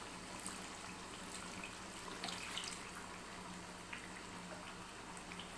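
Meat and potato curry simmers in a pot, a faint continuous bubbling hiss with occasional small pops, heard alone without talk.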